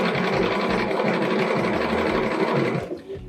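A sewing machine stitches in the ditch along a quilt seam, its motor running steadily and close, holding a continuous mechanical whir before slowing and stopping near the end.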